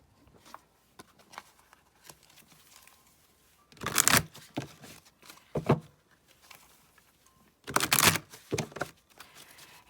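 Romance Angels tarot cards shuffled by hand in two brisk bursts of riffling and flapping, with softer card handling and light taps between, close up and with no talking.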